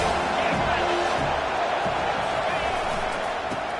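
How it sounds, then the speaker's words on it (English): A steady, dense stadium crowd roar in a college football video game fills the whole stretch, loud and continuous, with faint shouts and whoops rising from the wash of noise. "Man, this crowd really affecting the football."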